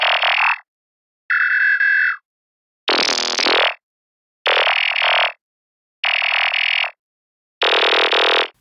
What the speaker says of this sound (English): when you're in a filter FM mode, the volume control on oscillator 2 controls the frequency of the modulation